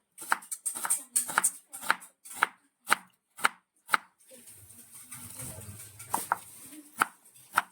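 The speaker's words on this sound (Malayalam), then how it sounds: "ഇതേ വലുപ്പത്തിൽ തന്നെ സവോളയും കൂടെ നമുക്ക് അരിഞ്ഞെടുക്കാം." A knife chops onion on a cutting board in crisp, evenly spaced strikes, followed by a short stretch of rustling and shuffling before the chopping picks up again, close and without talk.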